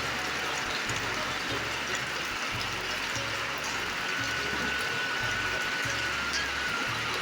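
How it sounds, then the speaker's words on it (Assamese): Heavy rain pours down in a steady, dense hiss that fills the whole stretch, with a low rhythmic thumping pulsing underneath and no talking. "বেছি বৰষুণত তিতি নাথাকিবা।"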